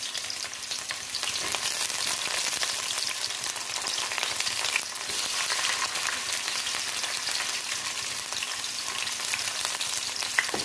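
Ginger, garlic and green chilli sizzle steadily in hot oil for a crab biryani, a constant crackling fry throughout with no voices.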